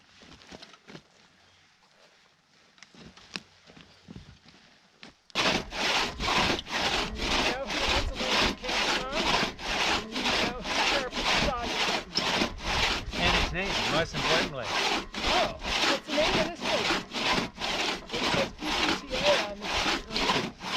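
A saw cuts through wood up close after a quiet start, settling into a loud, steady back-and-forth rhythm of about thirty rasping strokes.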